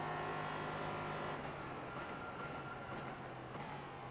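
An LMP3 race car engine in iRacing at Daytona holds a steady, droning mechanical whine at moderate level, with a slight dip in intensity midway and no voices.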